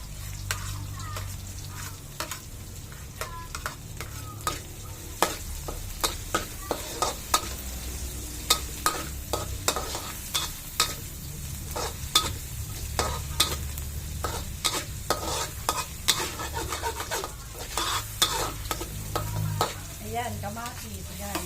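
Garlic, onion and bitter gourd sizzle steadily in a hot pan for ghinisang bagoong, with frequent clinks and scrapes of a spatula stirring against the metal over a constant frying hiss.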